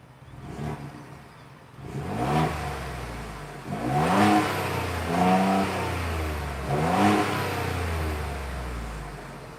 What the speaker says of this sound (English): I'll rev it one more time